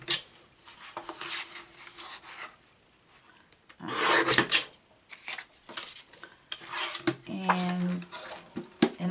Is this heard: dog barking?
no